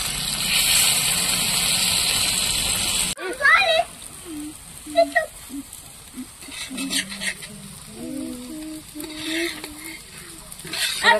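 Breakfast food frying in oil on a tawa, a steady loud sizzle at first that cuts off, followed by faint crackling under someone talking.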